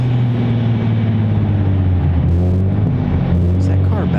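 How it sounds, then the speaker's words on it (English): A loud car drones steadily and close by at Raleigh-Durham International Airport, its deep engine rumble filling the whole stretch without fading. "Man, that car is really loud."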